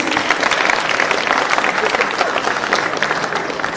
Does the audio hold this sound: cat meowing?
no